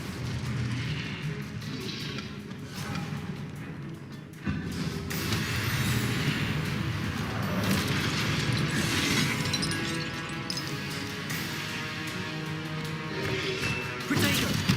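Confringo spells blast during combat in the Hogwarts Legacy video game, with repeated crashing, shattering impacts and booms over a dense, busy battle din that swells in the middle and keeps going throughout.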